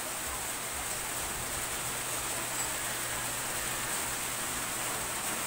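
Steady, dense hiss of heavy rain falling continuously, loud and even throughout with no voices.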